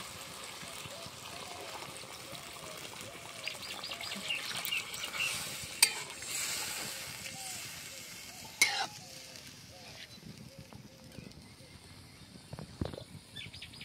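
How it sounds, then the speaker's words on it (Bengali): Water is poured into a pan of browned Bengali mutton curry, giving a few splashy gushes over a steady sizzle and the scrape of stirring in a homemade village kitchen. "এবার আমি এর মধ্যে জল দিয়ে দেবো।"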